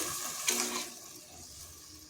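Water poured into a pan of half-cooked fried pumpkin and potato, a short hissing splash and sizzle that quickly settles into a low simmering hiss, no talking.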